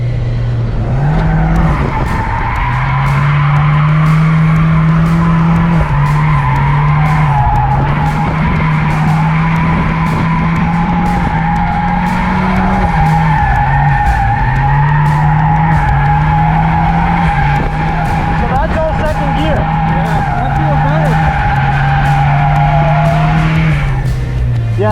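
Car drifting around a skid pad at a race track, engine droning steadily while the tires squeal continuously, loud and close for the whole stretch, with slight shifts in engine pitch.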